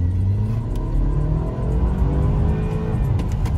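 A BMW with a Bootmod3 stage 2 tune pulls hard in second gear, its engine droning loud and close as the revs climb steadily through the run.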